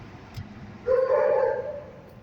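A single drawn-out bark or howl from a dog, fairly close, rising out of a low rumbling background and tailing off after about a second.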